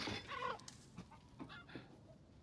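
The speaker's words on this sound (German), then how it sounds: "Hühner?" Chickens cluck in the Resident Evil Village video game: several short, quiet clucks scattered over a few seconds, faint and fairly distant against a hushed background.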